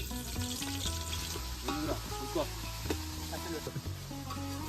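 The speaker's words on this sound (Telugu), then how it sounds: "నూనె అయితే వేడైంది, ఉల్లిగడ్డలు వేసుకుందాం అల్లుడు" Onions sizzle in hot oil in an outdoor pot, a steady crackling hiss that runs throughout, with faint voices and tonal sounds layered over it.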